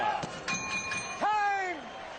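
A boxing bell ending round 5 of the Ricardo Lopez vs Rosendo Alvarez fight rings out in a short ringing tone, heard under the commentator's continuous speech and the arena crowd.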